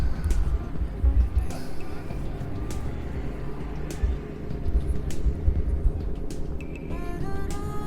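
Cars passing close by near railroad tracks on a summer day in Campbellville, Ontario, a steady low rumble of traffic with swells as vehicles go by and no talking.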